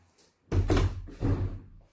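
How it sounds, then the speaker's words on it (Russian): Two heavy door bangs from a draft in an apartment, about half a second apart, close and resonant, each with a short rumbling decay. "все двери гремят из-за сквозняка"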